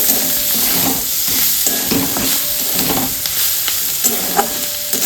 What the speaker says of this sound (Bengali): তারপর লঙ্কা গুঁড়া দিয়ে ভালোভাবে নেড়ে